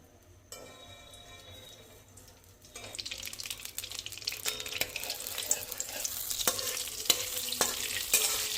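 A slice of butter sizzles in hot refined oil for chicken curry. A quiet start gives way to a loud, steady, crackling fry that builds, broken by a few sharp clinks.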